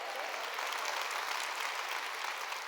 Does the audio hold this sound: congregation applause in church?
yes